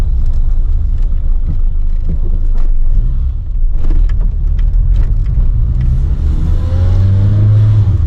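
A 1990 Citroën AX pulls away in first gear, its small petrol engine revving up loudly and steadily with a rising whine toward the end, close and with no talking.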